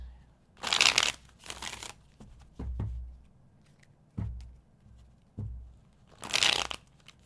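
Tarot cards being shuffled by hand in bursts, riffling rustles and soft taps separated by short pauses, close and fairly quiet.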